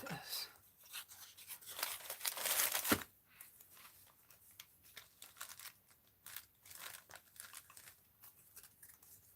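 Paper is cut and handled while making an art journal: crisp snipping and crinkling rustles come in bursts, a dense stretch early and then sparser cuts, close up.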